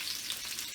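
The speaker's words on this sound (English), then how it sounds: "So diced onion in there. Let's get that sizzling happening." Diced onion sizzling in a hot pan, a brief, steady crackling hiss close up with no talk.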